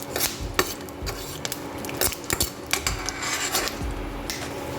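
Ingredients being roasted in a pan while stirred, a utensil scraping and clinking against the metal in quick, irregular strokes, close and fairly quiet with no voices.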